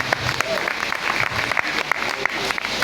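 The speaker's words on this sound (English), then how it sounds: "So once again, please, a round of applause for Wale." An indoor audience at a Red Bull Dance Your Style workshop claps for a dance instructor, giving dense, steady applause from a crowd close by with no pauses.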